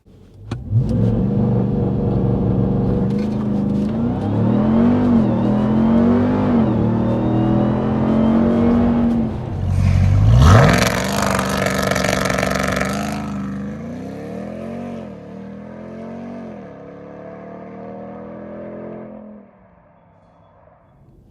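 A 2021 RAM TRX pickup does a launch control start, its engine droning and rising, then roaring loudly in a hard acceleration before the sound fades and drops away toward silence.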